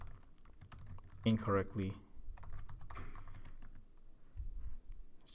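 Rapid keystrokes clatter on a computer keyboard while Python code is written, bursts of close, crisp clicks in an irregular rhythm, with a voice speaking briefly over part of the typing.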